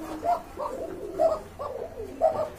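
A red indigo coffee coloured Rajgolla pigeon coos on its own, three rhythmic low phrases about a second apart, close and clear with no talk.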